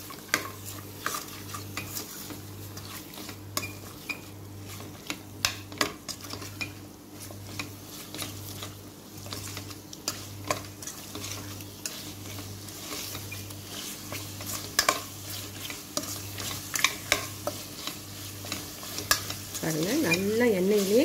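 Ground shallots frying in oil for mutton kurma, stirred continuously with frequent spoon scrapes and clinks against the pan over a steady sizzle and low hum, close up, with no speech.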